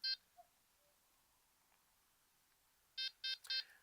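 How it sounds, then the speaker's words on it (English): A Delkim v2 carp-fishing bite alarm gives one short electronic beep, then after a quiet pause three quick, clear beeps in a row as it enters menu 3. "wait till you get 3 beeps"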